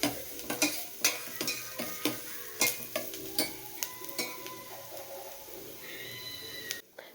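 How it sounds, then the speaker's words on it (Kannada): Chopped onion frying in oil in a cooking pot, with a near, steady sizzle broken by frequent clinks and scrapes of a spoon stirring against the metal. "ಒಂದು ಪಾತ್ರೆಗೆ ಸ್ವಲ್ಪ ಎಣ್ಣೆ ಹಾಕ್ಬಿಟ್ಟು ಅದಕ್ಕೆ ಒಂದು ಈರುಳ್ಳಿ ಹಾಕಿ ಚೆನ್ನಾಗಿ ಫ್ರೈ ಮಾಡ್ಕೊಳ್ತೀನಿ"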